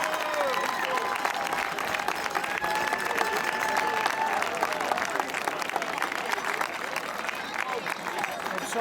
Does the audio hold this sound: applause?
yes